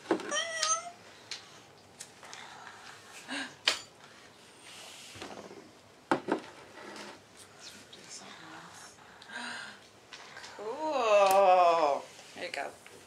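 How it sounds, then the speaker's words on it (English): A cat meowing several times, close and fairly clear, with one longer drawn-out meow near the end, mixed with light handling noises and a voice speaking in between. "That's a pretty kitty."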